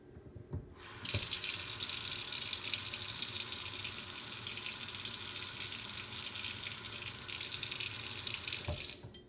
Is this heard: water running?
yes